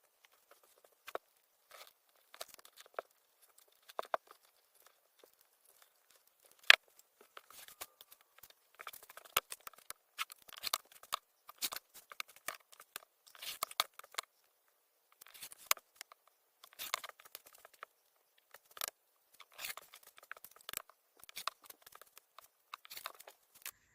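Scissors trim fabric pieces for a patchwork quilt jean jacket, producing irregular bursts of crisp snipping and rustling with brief silent pauses between cuts.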